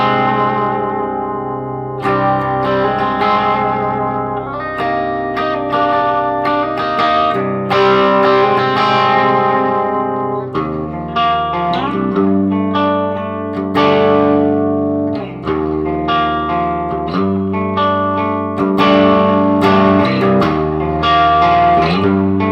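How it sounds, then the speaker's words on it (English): Electric guitar played through a Marshall DSL1HR 1-watt tube amp head with reverb, ringing chords and single notes sustaining with a wash of echo, steady and loud throughout with no talking. "Let's get some reverb in there, see what that sounds like."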